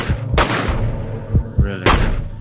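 Enemies shoot in a flash video game, a few sharp gunshot bursts, loud and close, spaced unevenly over a low background hum.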